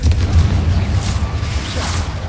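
Confringo fire spell explosion in the Hogwarts Legacy video game: a loud, deep rumbling boom with a whooshing burst on top, sustained through the whole short moment.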